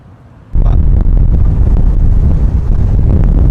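Wind roars loudly past a rider sitting behind a tiny virtual windshield, starting suddenly after a brief quieter moment and holding as a steady, buffeting rush.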